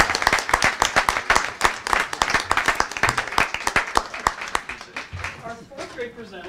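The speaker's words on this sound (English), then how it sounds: "let's give Matthew a round of applause" An audience at a school board meeting claps for a fourth grade student, with distinct sharp claps in a quick, uneven rhythm and talk mixed in, fading toward the end.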